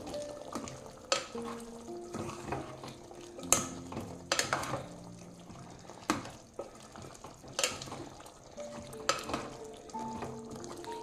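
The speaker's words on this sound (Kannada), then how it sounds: "ಎಲ್ಲ ಹಾಕಿ ಒಂದ್ಸಾರಿ ಈ ರೀತಿ ಚೆನ್ನಾಗಿ ಮಿಕ್ಸ್ ಮಾಡ್ಕೊಳ್ಳಿ" A spoon scrapes and clinks against a pan while masala powder is stirred into sizzling chicken fry, with irregular metallic knocks over a soft, steady frying hiss and no talking.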